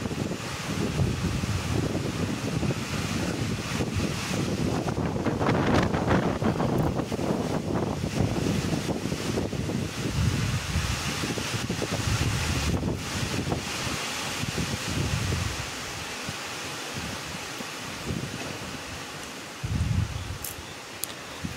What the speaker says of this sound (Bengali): দেখুন কিভাবে ঝোড়ো হাওয়া বইছে আর বৃষ্টি তো ঝরেই যাচ্ছে